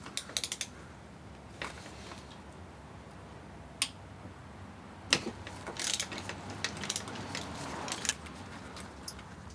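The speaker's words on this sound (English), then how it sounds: "I'm going to take the ground bolt off first" A ratchet clicks in quick bursts while a ground bolt is loosened from the thermostat housing of a Honda Civic Si B16A2, with scattered metallic ticks and taps from the tool, close and fairly quiet.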